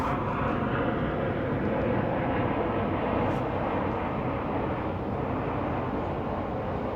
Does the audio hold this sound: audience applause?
no